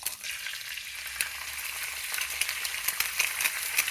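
Eggs frying sunny side up in a pan over medium-high heat, a steady bright sizzle with small crackles and pops, close and continuous.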